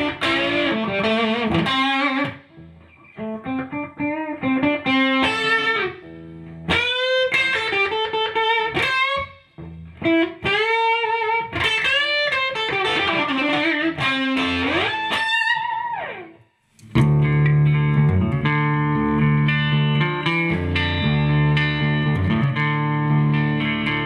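An electric guitar played through a Wampler Tweed 57 overdrive pedal rings out in melodic phrases, then shifts to heavier, thicker picked chords with more drive, loud and close.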